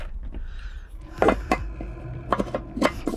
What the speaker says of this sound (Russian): Так, вот кастрюлька, вот она такая вот, такая хорошая.